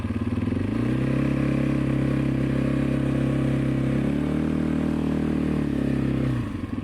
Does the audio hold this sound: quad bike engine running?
yes